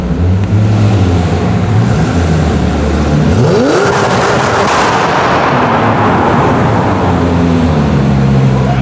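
A Zenvo TSR-S supercar rolls into a car park with a very loud engine roar. A sharp rising rev sweeps upward, and booming pops and crackles ring out close by, with almost no talk.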